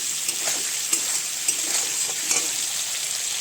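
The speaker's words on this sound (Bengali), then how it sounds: "দিয়ে দিলাম কিছুটা সরিষার তেল, তার মধ্যে দিয়ে দিয়েছি 2-3টে শুকনো লঙ্কা আর একটু জিরা। তার মধ্যে দিয়ে দিলাম চিংড়ি মাছ।" Prawns sizzle and fry steadily in hot mustard oil with dried red chillies and cumin, a close, continuous crackle with a few sharper pops and stirring scrapes.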